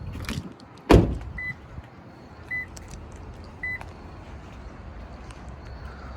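The power windows of a 2012 Toyota Prius V whir briefly several times in a quiet cabin, with short electronic chime tones and a thump near the start.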